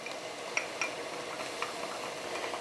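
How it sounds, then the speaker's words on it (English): Minced garlic, about a tablespoon, dropped into a pan for chicken alfredo, a soft steady sizzle with a few light spoon taps, close and quiet. "I'm going to add my garlic. It's about 1 tablespoon I added."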